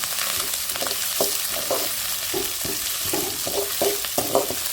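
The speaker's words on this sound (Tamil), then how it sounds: "கருவேப்பிலை, மிளகாய் எல்லாம் சேர்த்துக்கலாம். எல்லாம் சேர்ந்து வதங்கலாம்." Curry leaves, chillies and onion sautéing in a pan for ragi semiya upma, a steady sizzle under about a dozen rhythmic scrapes and stirs of a spoon, fairly close, with no talk.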